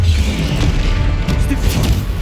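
Spell explosions from Confringo casting in the Hogwarts Legacy video game, heavy booming blasts rumbling continuously and loudly across the whole stretch amid a dense layer of combat noise.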